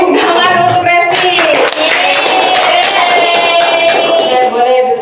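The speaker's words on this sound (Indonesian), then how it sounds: "berikan tepuk tangan untuk Revi." Students clapping in a classroom during an Indonesian-language teaching session, a steady burst of hand claps lasting several seconds, mixed with voices and some tonal sound over the top.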